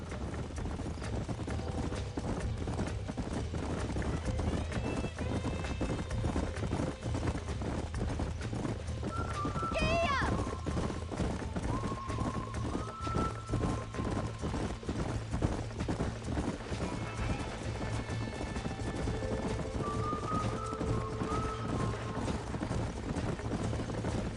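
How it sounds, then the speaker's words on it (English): Horses in the Red Dead Redemption video game clip-clop steadily at a ranch, a continuous hoof rhythm with occasional whinnies and whistled tonal calls, over constant low ambient noise and no talk. "These are fine horses."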